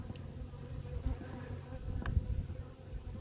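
A low, continuous buzz of many honey bees from a caught swarm humming close by, steady and fairly quiet with no voices.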